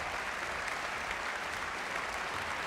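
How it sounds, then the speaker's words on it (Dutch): After a chamber music concert at an international festival in Utrecht, an audience applauds in a steady, dense patter of clapping that holds evenly throughout, heard at moderate distance with no voices. "er mag terecht meer van het applaus worden genoten"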